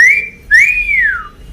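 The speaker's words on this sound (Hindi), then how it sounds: "छेड़ने के लिए ऐसी सीटी बजाई जाती है" A person whistles a teasing call: a short rising note, a brief pause, then a longer sweeping note that climbs and slides down, loud and close with no talking.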